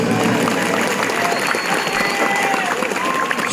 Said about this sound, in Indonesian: Tepuk tangan untuk Ustadz di Kadomas.